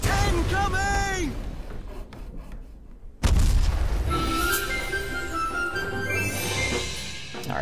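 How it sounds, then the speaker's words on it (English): Ship cannon fire in the video game Her Majesty's Ship, a sudden loud boom midway through with a rumbling tail over game sounds, and voices before it. "Fire all guns! Incoming!"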